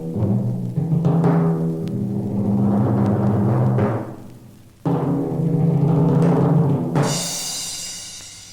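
Orchestral percussion instruments rumble and crash in a dense, loud passage of drums and cymbals, with swelling rolls, a sudden break, then a renewed roll ending in a bright shimmering cymbal wash, no voices.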